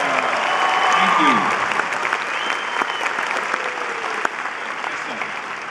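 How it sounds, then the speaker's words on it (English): A large audience at a Stan Lee fan expo Q&A claps in sustained, dense applause that stays loud throughout, with faint crowd voices and a cheer or two mixed in. "Round of applause"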